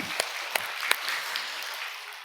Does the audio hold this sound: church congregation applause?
yes